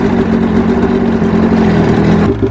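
An abandoned snowmobile's engine runs loud and close, revving with a steady buzzing drone before dropping off abruptly at the end.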